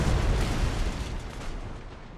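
Naval cannon fire in Napoleon: Total War during a sea battle against the British, a heavy rolling boom of broadside shots that rumbles and slowly fades, loud and deep, with no talking.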